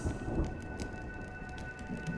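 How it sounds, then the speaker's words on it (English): Steady rain pours with a low thunder rumble in a rainy scene of the game Honkai: Star Rail, a continuous dense hiss with deep rolling underneath and a few faint tonal hums. "When will this rain ever stop?"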